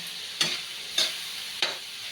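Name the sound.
mixing corned beef into sayote while sautéing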